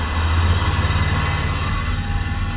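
Ford Falcon AU car engine running steadily in fifth gear, a loud continuous low rumble with road and drivetrain noise filling the cabin, no voices.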